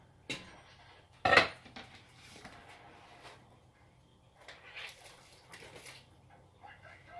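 Clanks and clinks from a metal pot and utensils in a home kitchen while pork pozole rojo is cooked. There is one sharp close clang, followed by scattered lighter taps and scrapes, with some quiet talking.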